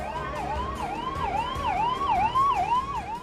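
A loud ambulance siren wails in a fast, repeating rise-and-fall cycle during a farmers' chakka jam road blockade protest in India, with faint traffic rumble underneath.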